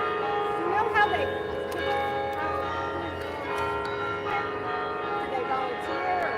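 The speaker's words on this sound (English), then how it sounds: "we got a great chimes player tonight." Bell chimes played by a skilled chimes player at sunset, steady overlapping ringing tones carrying from a distance while people talk quietly nearby.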